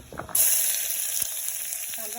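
Onion hits hot oil in a pressure cooker, setting off a sudden loud hiss after a few quiet taps; the sizzle then continues steadily and close.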